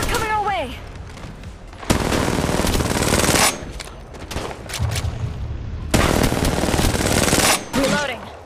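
Gunfire rings out in the Apex Legends Mobile battle royale shooter: two long, loud bursts of rapid automatic fire, each running a couple of seconds. Between the bursts there are quieter game effects and sweeping electronic tones.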